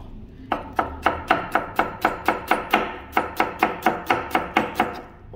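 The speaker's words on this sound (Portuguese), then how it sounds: "Aqui eu vou cortar de uns cortinhos assim, ó." A knife chopping seasoning ingredients for fish on a board, about sixteen crisp, evenly spaced knocks with a short pause midway, close and clear.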